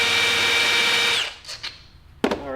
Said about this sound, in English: So I'm gonna have to drill out a couple of these flange washers a little bit